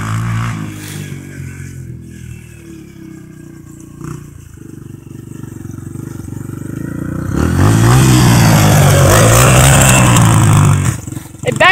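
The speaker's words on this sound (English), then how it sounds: "It backfires." A Yamaha TTR 125L dirt bike engine idles unevenly at first, then revs up loudly and holds a rough, rising and falling roar near the end, with a few sharp pops.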